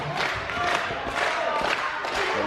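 A wrestling crowd cheers and shouts continuously at a live independent show, filling the space with a loud, dense roar.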